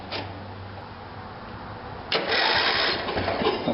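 A lawnmower engine is cranked with its starter, a quieter low drone first and then a louder, rougher whirring burst that runs steadily to the end.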